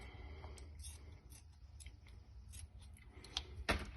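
Scissors snip through a fabric face mask being made at home, giving a string of quiet, crisp cuts and clicks with a few sharper, louder snips at the end and no talking.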